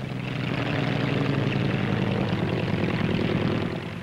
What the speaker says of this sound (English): Here's the Bristol 173, or rotorcoach, with twin engines.